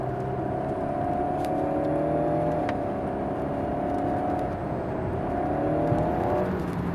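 An Alpine A110S engine pulls hard on the Lohéac circuit, a steady loud drone heard from inside the car, its pitch climbing gradually through the gear before easing near the end.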